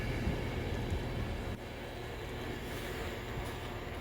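A CAF-built passenger train idling at Wigan North Western station gives a steady, broad rumbling drone. It holds level for about four seconds, easing slightly after a faint click partway through, with no talk over it.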